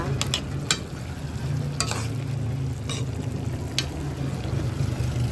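Chayote stir-frying in a pan with pepper, a steady close sizzle under several sharp scrapes and clinks of a utensil against the pan, with no talk.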